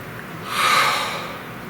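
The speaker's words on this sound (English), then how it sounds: "Please take a nice deep breath." A single deep breath, one slow airy inhale swelling and fading over about a second, close and alone.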